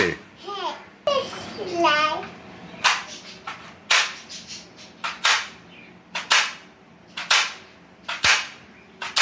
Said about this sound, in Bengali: কয়টা গুলি করছো?